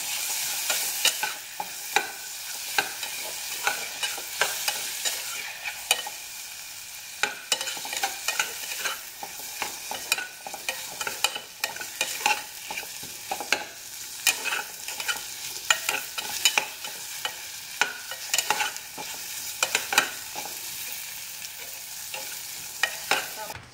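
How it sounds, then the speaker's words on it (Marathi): Tomatoes, chutney and turmeric sizzle in hot oil in a pan while a spoon stirs and scrapes at irregular intervals, a close, steady frying hiss lasting over twenty seconds with no talk. "टोमॅटो पण एक अर्धा मिनिट छान परतून घेऊया तेलात"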